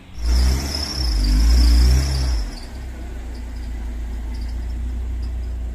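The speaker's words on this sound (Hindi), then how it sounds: "गाड़ी ये अपने घर में खड़ी कर रहे हैं।" A Toyota Hiace van pulls into a home and parks, its engine loud and revving close by for the first couple of seconds, then settling to a steady low rumble.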